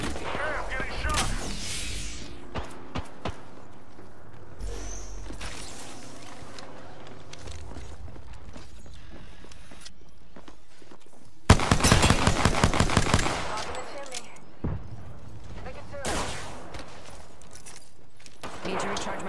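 Video game gunfire in a shooter where shields recharge: rapid machine-gun bursts and scattered shots, loudest in a dense volley midway, with other sporadic bursts before and after.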